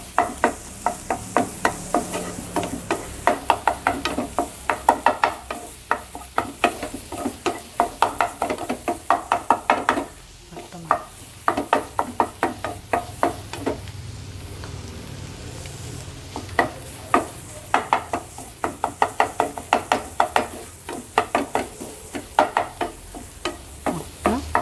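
A spatula or spoon scraping and tapping rapidly in a pan while egg is stirred and broken up for Kerala egg porotta, a quick rhythmic clatter over a faint sizzle, briefly pausing midway before resuming.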